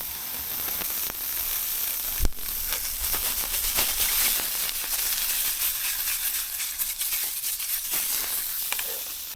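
Subway-style rolls sizzle in a pan on a camping stove outdoors on a gusty day, a steady close hiss and crackle with one sharp knock partway through.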